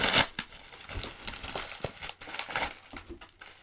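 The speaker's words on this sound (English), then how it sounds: "Destroy paper, actual paper, for which I've got scissors" Paper crinkles and tears up close as scissors snip through packaging in short, uneven bursts.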